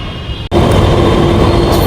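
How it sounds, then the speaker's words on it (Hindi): A metro train pulls into a station amid a crowded platform, a loud, steady rumble of rolling wheels and motor hum setting in abruptly after a brief dip and holding at full level. "फाइनली मेरी मेट्रो आ गई है,"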